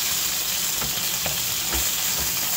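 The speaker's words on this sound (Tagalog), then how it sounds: "Ipa-fry po natin ng ganito po hanggang sa mag-light brown." Chicken legs frying in a pan until light brown, a steady loud sizzle with faint pops and crackles throughout.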